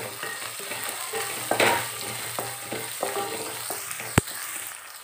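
Curry leaves and a chilli cut in two crackle in hot oil with small onions for an oil brinjal curry; a soft steady sizzle with light spatula stirs and one sharp clank near the end, close and without talk.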